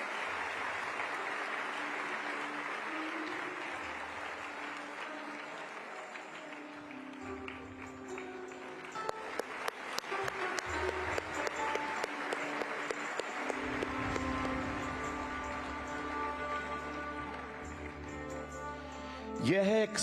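A large audience at the BAPS Hindu Mandir inauguration in Abu Dhabi breaks into applause that starts sparse and builds to sustained, dense clapping.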